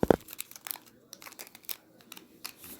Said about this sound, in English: I'm going to take my tape and just tape it around